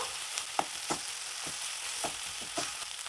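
Malabar spinach and potatoes sauté in a pan with a soft, steady sizzle, broken by several short scraping stirs at an irregular rhythm; close and fairly quiet.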